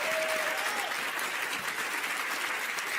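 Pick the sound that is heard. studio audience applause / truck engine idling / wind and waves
studio audience applause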